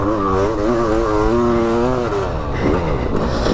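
A 500cc two-stroke motocross bike revs in a raspy, warbling tone that climbs and falls, heard steadily at moderate distance with no talk.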